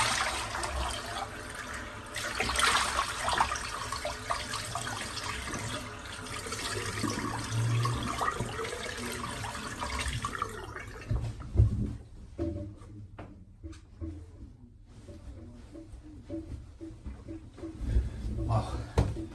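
Water runs from a tap while a lathered shaving brush is rinsed out, a fairly quiet, steady splashing stream with clunks and handling noises, thinning into scattered drips and splashes toward the end.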